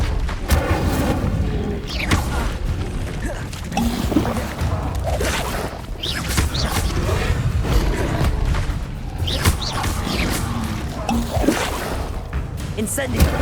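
Repeated Incendio fire spells cast in the Hogwarts Legacy video game erupt in a string of booming, crackling bursts across the whole stretch, loud and close, with dense game noise and voices mixed underneath.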